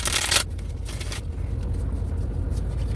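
Tarot cards being shuffled: a loud burst of riffling at the start, then a steady soft papery rustle of cards continuing throughout, close by with no talk.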